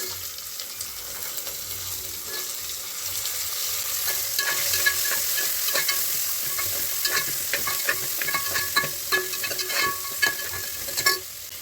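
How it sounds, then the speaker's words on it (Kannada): Onions sizzling steadily in hot oil in a pan for Bisi Bele Bath, with repeated scraping stirs and clinks growing more frequent toward the end, close and loud. "ಇವಾಗ ಈರುಳ್ಳಿ ಹಾಕ್ಕೊಂಡು ಒಂದು 5 ಸೆಕೆಂಡಷ್ಟು ಫ್ರೈ ಮಾಡ್ಕೊಂಡಿದ್ದೀನಿ."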